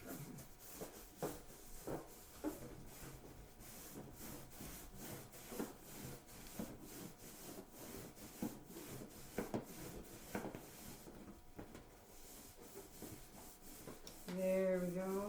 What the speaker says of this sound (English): You can keep rubbing for a moment.